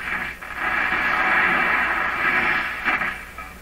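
Broadcast station near 680 on the AM dial comes through a Hallicrafters S-38 tube radio in a workshop, a steady band of filtered radio audio with background noise, fairly loud and continuous with a brief dip and a swell near the end.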